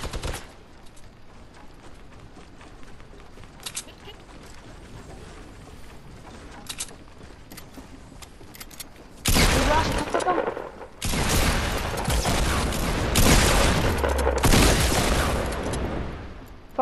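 Gunfire from a burst rifle in a shooter video game. Quiet background at first, then loud clustered bursts of shots with short pauses between them, under occasional talk.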